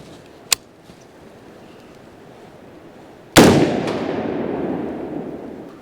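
A rifle shot at dusk sets off an explosive target: a sharp, faint crack comes first, then after a quiet pause a loud, close boom bursts out and rumbles away in a long fading tail.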